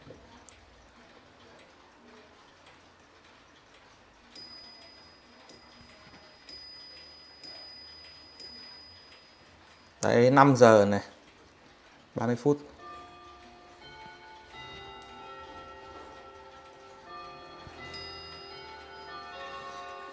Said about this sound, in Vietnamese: Em sẽ thử qua tiếng chuông để các bác được thưởng âm tiếng chuông nhé